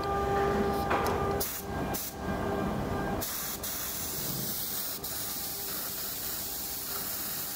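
A PU paint spray gun sprays steadily, giving a loud, continuous close-up hiss that holds for several seconds, with a brief sputter and shift in tone early on.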